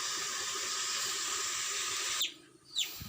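Coconut milk pouring into a pot of chicken adobo in a steady hissing stream, then cutting off abruptly, followed by a couple of soft splashy sounds.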